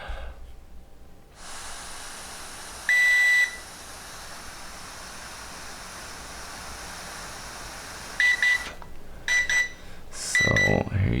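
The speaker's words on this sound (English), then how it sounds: "once it gets to 0, it'll beep to indicate" A handheld breathalyzer beeps after its warm-up countdown: one sharp electronic beep, then a cluster of quick beeps, with a hissing blow of breath into the device near the end.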